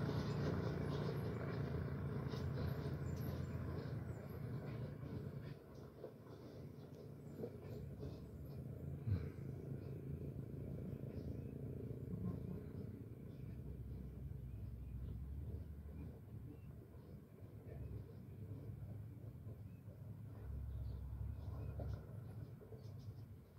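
A second tanker truck pulls out onto the road, a steady low engine rumble and road noise that builds gradually, with faint background voices.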